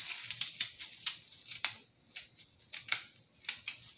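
A knife or scissors cuts plantains during breakfast preparation of sautéed kale and plantains, giving a run of sharp, close snips and crisp clicks in an irregular rhythm, with no talk.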